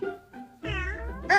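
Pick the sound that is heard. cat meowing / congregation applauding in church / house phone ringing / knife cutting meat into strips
cat meowing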